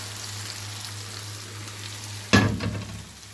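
Okra tossed onto spiced masala on a flat tawa erupts in a sudden loud sizzle after a steady hiss of low background hum, then the crackling frying fades off gradually.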